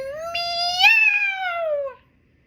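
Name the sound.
cat meowing loudly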